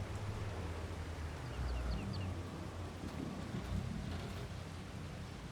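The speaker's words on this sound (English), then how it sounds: "it's raining already, and I was hoping to beat the rain" Steady rain falling in Farming Simulator 22, a constant soft hiss with low rumbling wind, moderately faint and continuous with no talk.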